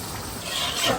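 Thickened spice paste with a little sugar roasting in a pan during Bengali home cooking, giving a steady, soft sizzling hiss with faint stirring scrapes throughout, no voices.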